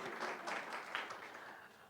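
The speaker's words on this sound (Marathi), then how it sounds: "मी सगळ्यांसाठी टाळ्या वाजवतो." Applause from a congregation at a Sunday church service, a brief burst of many hands clapping together, moderately distant and fairly faint, fading slightly toward the end.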